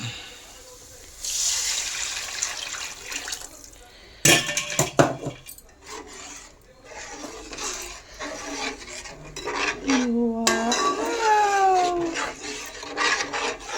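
Spoon scraping and stirring in a metal pot, with clinks and a thick fish gravy being poured in.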